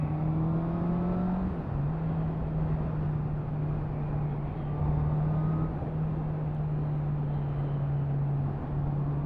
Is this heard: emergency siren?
no